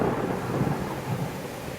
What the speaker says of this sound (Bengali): হঠাৎ আশেপাশে কোনো একটা গাছে গড় গড় করে জোরে একটা বাজ পড়ল।